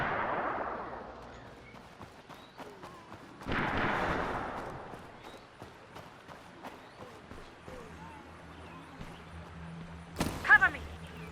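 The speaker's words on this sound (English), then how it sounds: "Hear that? Gunshots." Distant gunfire in the zombie survival game State of Decay, several dull booming shots spaced out over ambient outdoor sound, with a sharper cluster of reports near the end.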